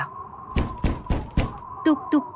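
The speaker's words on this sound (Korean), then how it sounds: "똑똑똑 밖에서 문을 두드리는 소리가 났어요." Four evenly spaced knocks on a wooden door, close and distinct, followed by two lighter taps, set in a children's storybook reading of Les Misérables with a steady tone humming underneath.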